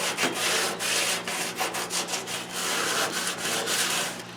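Hand block sanding of a Firebird cowl with 220 grit sandpaper makes a steady, close run of rhythmic rasping strokes, one after another with no talk.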